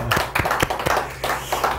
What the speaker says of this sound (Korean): 우리 할렐루야 주님께 박수를 영광 돌립니다